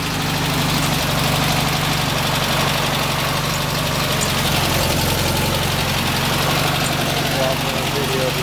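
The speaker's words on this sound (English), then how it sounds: "Maybe we'll do a quick engine startup. So we can hear the car run." A 1970 Volkswagen Beetle's small air-cooled engine idles with a steady, loud, rattling chug, close by and unchanging throughout.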